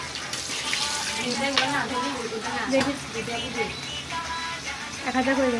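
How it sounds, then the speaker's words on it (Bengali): Onions, bay leaves, cardamom and cinnamon being stirred and fried in ghee in a pan at an outdoor office picnic, a steady sizzle with scraping under people talking. "এরপর হচ্ছে এগুলো একটু নেড়ে নেড়ে ভেজে নিতে হবে"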